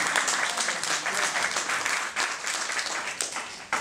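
Dense, continuous applause from a seminar audience, many hands clapping at once, loud and sustained throughout with no pauses.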